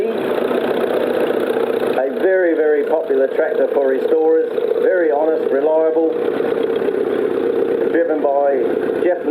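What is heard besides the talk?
Case Model C tractor engine running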